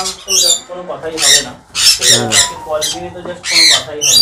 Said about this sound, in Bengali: অ্যাডাল্ট ঝান্ডিয়া, এটা পুরো অ্যাডাল্ট ঝান্ডিয়া